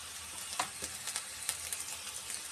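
Patties frying in a pan, a steady hiss of sizzling oil with a few sharper pops and crackles scattered through, close and moderately loud with no voices.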